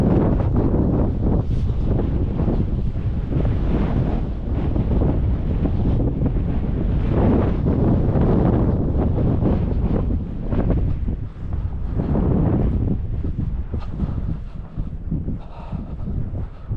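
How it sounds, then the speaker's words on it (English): Strong outdoor wind buffets the microphone near caves and a falls park, a loud continuous roaring rumble with gusty surges and no speech. "that wind that's picking up is blowing me cap off all the time"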